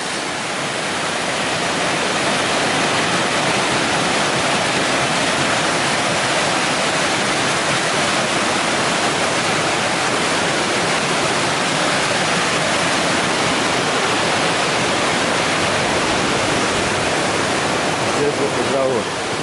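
Cascades on the Magareva River in Macedonia pour in a loud, dense, unbroken rush of white water that stays constant throughout.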